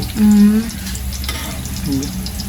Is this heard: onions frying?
yes